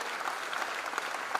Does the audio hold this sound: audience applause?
yes